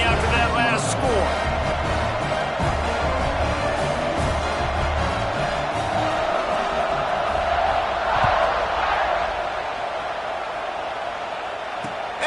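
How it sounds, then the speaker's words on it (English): A football stadium crowd buzzing after a score, a steady, dense wash of murmuring and cheering that holds throughout at moderate loudness. "this crowd is buzzing after that last score"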